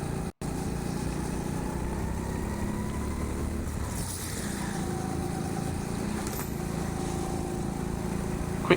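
A go-kart engine droning steadily on the track at TeamSport Sheffield, a continuous buzzing roar that holds level throughout with slight pitch shifts and no voices.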